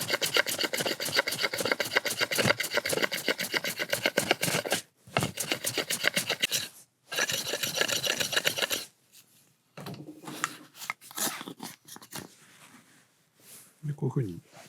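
Hand carving and shaving wood to shape the curved sole of a Japanese spokeshave, fitted to a 50 mm PVC pipe, gives dense, continuous rasping strokes in long bursts, then quieter scattered scraping as a person talks.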